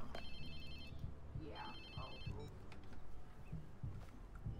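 A mobile phone rings in the video game Watch Dogs 2, a repeating electronic ringtone in short bursts over a low engine-like hum and game sounds, with a voice speaking briefly.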